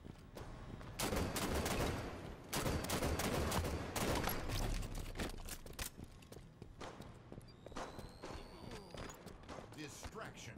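Rapid gunfire bursts in the video game Halo 5, dense volleys of shots in two long stretches followed by scattered pops and footsteps, with players talking throughout.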